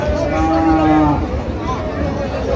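Cows at a busy cattle market low in long, drawn-out moos, one loud and close, with a crowd murmuring faintly beneath.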